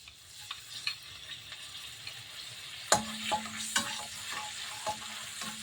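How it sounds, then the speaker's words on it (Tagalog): Garlic sautés in a pan with a quiet steady sizzle, broken by a series of sharp spatula scrapes and taps that get louder and more frequent partway through, close up. "Gisa muna natin itong bawang"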